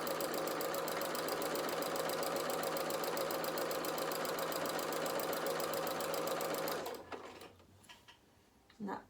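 A sewing machine stitches a toy bear's body in a fast, steady mechanical whir. It stops near the end, leaving a few small handling clicks.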